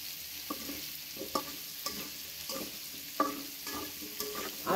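Potatoes and vegetables fry in a pan with a continuous close sizzle, broken by regular stirring scrapes about every half second to second, fairly quiet and with no talking.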